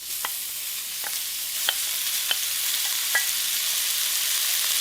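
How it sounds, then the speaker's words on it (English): Pieces of beef for a Mexican beef stew sear in a hot pan, a steady bright sizzle with a few sharp clinks of a utensil stirring, close and alone. "Next, you're going to add your beautiful pieces of beef."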